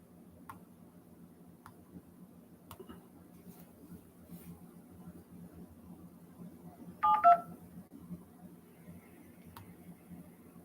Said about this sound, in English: The dialer is taking its time.